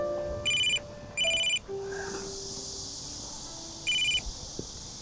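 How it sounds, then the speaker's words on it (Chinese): A phone ringtone chirps in three short bright bursts, two close together and one after a pause, clear and near over a quiet indoor hum. "你跟陈总先进去，我接个电话。"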